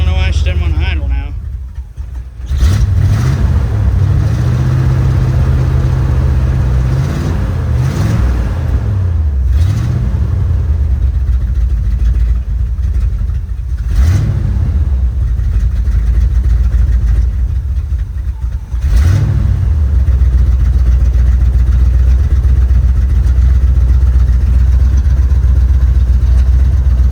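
A 1974 Chevy C20 truck engine idles loud and close with a rough, uneven rumble and a few small surges, while people talk over it.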